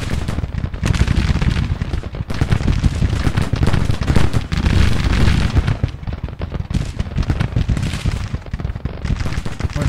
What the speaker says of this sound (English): Skirmishers over here deliver some flanking fire, even though they're just mixed muskets.